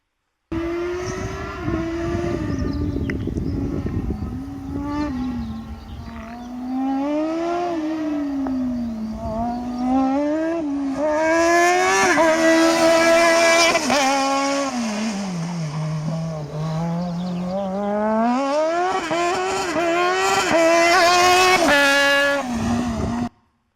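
A Formula Student race car lapping a circuit, its engine note climbing and falling with tonal sweeps through gear changes and corners, loud and continuous for the whole pass, recorded on a handheld camera.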